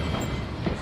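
Steady close rumble and rattle of a train riding the reconstructed Georgetown, Breckenridge and Leadville Railroad, continuous and fairly loud through the whole short moment, with no talk.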